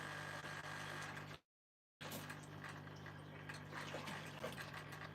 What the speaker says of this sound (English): You hear that weird noise, it's just because I've got a filter going.